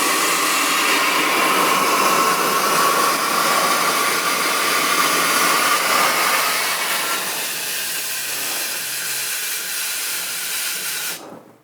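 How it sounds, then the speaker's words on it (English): Compressed air hisses steadily and loudly into a welded, patched inner tube on a David Brown 990 tractor drive tyre, a constant close rush that eases slightly before cutting off abruptly. "Put a bit of air in."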